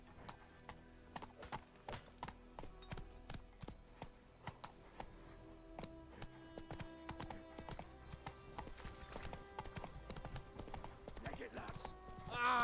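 Roach, a horse in The Witcher 3, clip-clops along in a steady, brisk hoof rhythm, close and clear, with a faint whinny-like tone and rising noise near the end.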